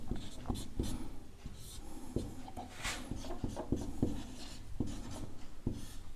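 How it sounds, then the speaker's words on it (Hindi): Quiet, uneven taps and scraping strokes of writing on a board in a maths lesson, scattered irregularly across several seconds with no one talking. "देखिए हम लोग कैसे लिखेंगे"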